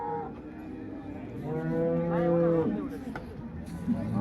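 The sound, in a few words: cow mooing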